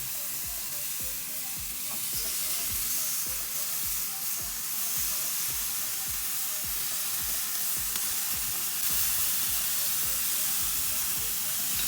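Pork belly liempo on a grill heated to 350 degrees gives a steady, close sizzle and crackle of fat that holds evenly for the whole stretch with no talk.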